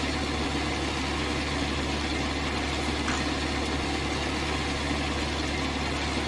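A farm tractor's engine idles in a steady, unbroken mid-low drone with a faint vibrating hum, alone and without voices.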